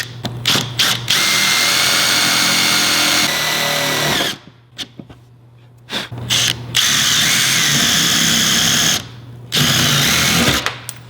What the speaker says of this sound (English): We're just gonna use self-tappers for now.